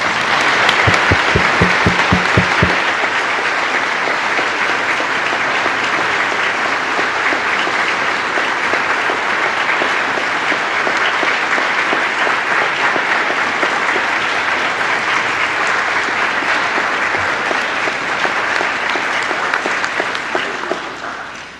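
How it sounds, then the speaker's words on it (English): A church congregation at a 50th anniversary service applauds its board presidents with loud, sustained, dense clapping that fills the room and runs steadily for about twenty seconds before tapering slightly at the end. "Let's give them a big applause."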